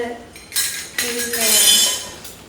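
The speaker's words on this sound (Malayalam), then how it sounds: "പിന്നെ വീണ്ടും സ്പൂണ്, ഇതൊക്കെ അറേഞ്ച് ചെയ്യുന്നതായിരിക്കും" Spoons and other utensils clink and rattle as they are handled and arranged, a few bright bursts of metallic chinks close by, with a voice present in the background.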